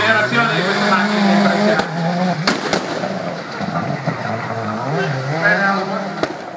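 A rally car at the Rally di Roma Capitale accelerates hard and close. Its engine note climbs and wavers, broken by sharp, loud crackling pops.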